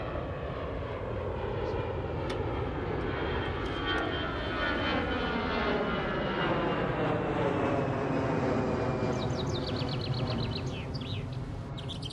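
A fixed-wing aircraft roars close to an airport runway, a loud broad jet rumble with a Doppler-sweeping whine, and small birds chirp faintly near the end.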